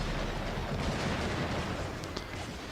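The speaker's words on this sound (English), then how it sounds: "plasma cannon still doing plasma cannon thing" A plasma cannon firing in a video game, a dense, loud rumbling blast that fills the stretch with a couple of sharper cracks near the end.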